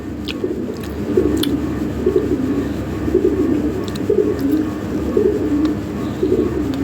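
Lahori pigeons, a big, healthy pair including a red Lahori, cooing in soft low rolling phrases that repeat steadily through the clip, close by, with faint higher chirps now and then.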